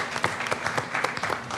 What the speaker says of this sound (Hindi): तो हमें तालियां मारनी चाहिए बिल्कुल